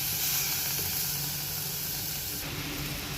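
Mushrooms drop into a pan of frying onion masala, setting off a loud, steady hiss of steam and sizzle that fills the whole stretch with only slight shifts in tone.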